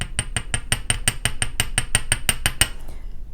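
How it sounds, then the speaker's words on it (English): A riveting hammer flattens round wire for beaded earrings with about fourteen sharp, ringing metallic blows in a quick, steady rhythm. The strikes are close and loud, then stop abruptly. "I'll use my riveting hammer. And I'm just going to flatten this."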